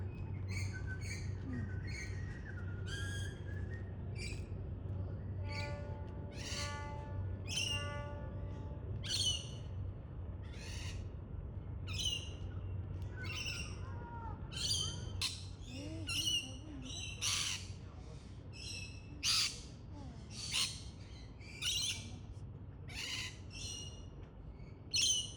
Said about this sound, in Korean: 약간 체험형 동물원에 온 것처럼 다양한 새들을 볼 수 있었어요